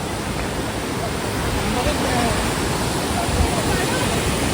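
Somtirth waterfall near Malgund and Ganpatipule, a heavy flow of rushing water that roars as a steady, loud broadband wash throughout, with no pauses.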